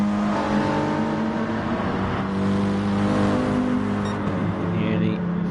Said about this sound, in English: Thundering, chuggling BMW engine of Rico there in 4th